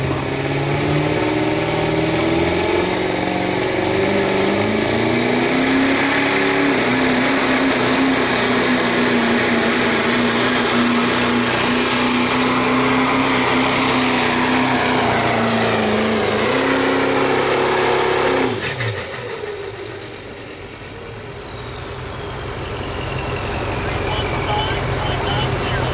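A 2007 Chevrolet diesel pickup pulling at a truck and tractor pull in Tipton, Missouri, its engine droning loud and steady for about eighteen seconds before dropping off sharply, then building again under a constant crowd and announcer backdrop.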